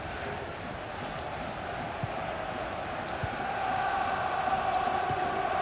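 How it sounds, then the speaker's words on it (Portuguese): Stadium crowd noise from the football video game FIFA 17, a steady dense roar of a large crowd throughout with a slight swell toward the end. "Escuta só a torcida fazendo a parte dela para ajudar a confirmar a vitória"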